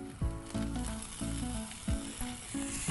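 Wrung-out vegetables for a Gujarati flower dish frying with onion in a hot pan, a loud sizzle broken by several sharp spatula scrapes and knocks at uneven intervals, close and without speech.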